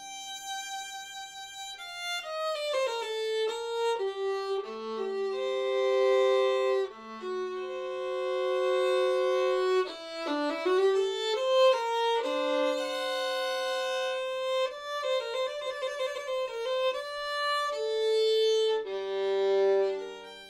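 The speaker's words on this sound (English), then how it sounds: "when I pull the bow across the strings of the violin, it makes a really beautiful, long, flowing sounds like this" A violin played with a bow gives long, flowing sustained notes with gentle vibrato, clear and up close, one note gliding into the next over about twenty seconds with no voices.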